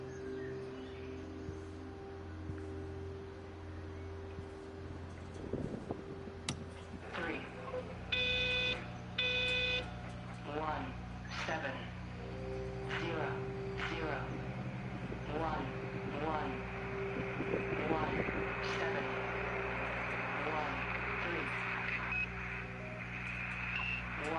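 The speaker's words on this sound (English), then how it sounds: "Some kind of weird Morse code" Odd electronic beeps and tonal pulses crackle from a radio in the game Everybody's Gone to the Rapture, faint and irregular like Morse code over a low hum, with a voice speaking briefly.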